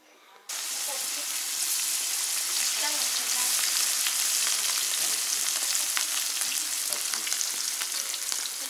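Chunks of sheep tail fat drop into smoking-hot oil in Uzbek cooking from Jizzakh, setting off a loud, dense, continuous sizzle and crackle that starts abruptly after a brief near-silence and holds steady throughout.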